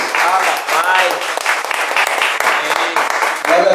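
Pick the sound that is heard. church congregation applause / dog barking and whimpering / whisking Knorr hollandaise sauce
church congregation applause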